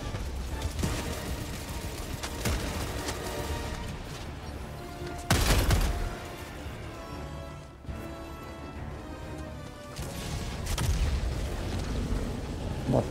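Grenade explosion in Helldivers 2 amid ongoing gunfire: a loud, deep boom bursts out partway through over a busy stream of shooting and mechanical clatter, with another heavy blast rumbling near the end.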